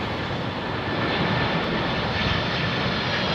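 United Boeing 767 coming in to land on runway 27R at London Heathrow, a loud steady jet roar with broad rushing noise, close overhead and continuous, no talking.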